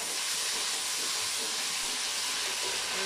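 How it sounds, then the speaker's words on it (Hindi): Garlic-ginger paste hitting browning onions in a pot of mixed vegetable pulao, giving a continuous bright sizzling hiss that stays steady and close throughout. "अब इसमें हम लहसुन डालेंगे।"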